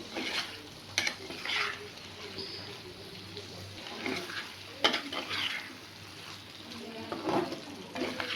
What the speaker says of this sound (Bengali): দইটা দিয়ে আর একটু ভালো করে একটু ভাজা ভাজা হলে